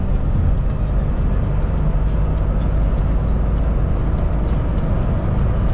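Nissan Pickup D22 3.0 Turbo engine pulling hard while overtaking on the road, a steady, loud low drone with road and wind rumble throughout, no talk.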